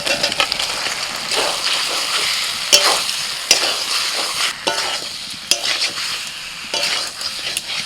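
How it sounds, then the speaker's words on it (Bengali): Fried cauliflower and potato are tipped into sizzling masala in a pan for a prawn cauliflower dish, producing loud continuous frying with repeated sharp clacks and scrapes of stirring. "এবার এই ভেজে রাখা কপি আর আলু আমি দিয়ে দিচ্ছি"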